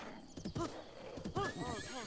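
A horse in The Legend of Zelda: Breath of the Wild whinnies in two rising-and-falling neighs, the second longer, with soft hoof clip-clops and game ambience beneath; no talk.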